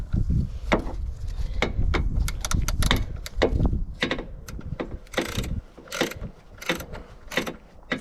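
Ratchet wrench with an extension loosening the battery hold-down on a Duramax L5P truck: uneven bursts of sharp ratcheting clicks, close up, with metallic clanks and pauses between strokes.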